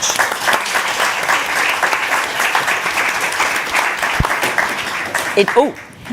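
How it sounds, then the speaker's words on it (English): Audience at a live climate and development finance panel event applauds a speaker, a steady, sustained round of clapping filling the room, with some voices mixed in before it tapers off near the end. "Vera Songway, let's give her a round of applause."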